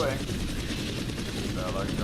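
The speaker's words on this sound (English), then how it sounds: "Hear a lot of gunfire." Gunfire in the VR video game Starvault during a multiplayer match: continuous rapid automatic firing that blends into a dense steady roar at moderate distance, unbroken for the whole moment.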